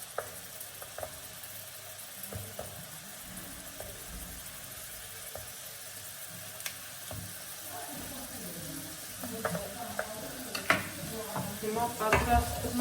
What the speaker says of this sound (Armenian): Սպասենք, որ տապակվի։